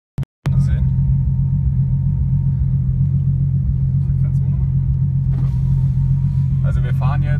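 A Nissan Skyline R33 fitted with a BorgWarner EFR 9180 turbo cruises on the A2 motorway, a steady low engine drone and road rumble heard from inside, with faint talk in the cabin.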